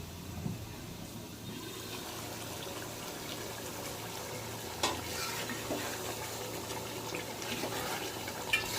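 Beef tehari being stirred in a silver pot, with soft scraping and shuffling of a spoon through the rice over a low simmering sizzle, fairly quiet with a couple of sharper knocks.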